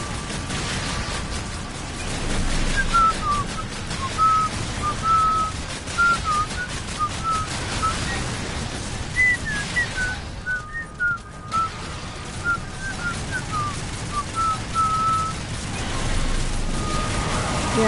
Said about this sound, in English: Yeah, sorry, I'll stop whistling.